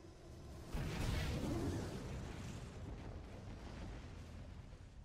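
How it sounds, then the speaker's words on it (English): A sudden booming explosion in Elden Ring erupts and trails off into a long rumbling wash of noise, fairly distant and muffled. "Explosion."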